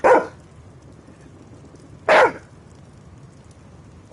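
Two loud, sharp dog barks sound close by, spaced about two seconds apart, with quiet room noise between them and no speech.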